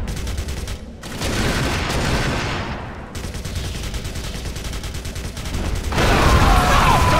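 Sustained gunfire from the first-person shooter Clive Barker's Jericho, dense bursts of automatic fire with booming shots, loud and continuous, swelling heavier toward the end.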